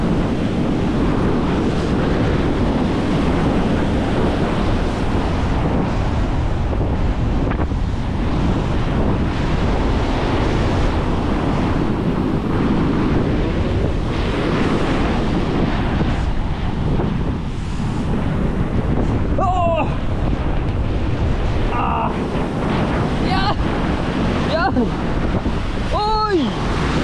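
Sea waves surge steadily against a shoreline where the water has reached and broken down fences, a loud continuous wash heavily buffeted by wind on the microphone, with a voice calling out near the end.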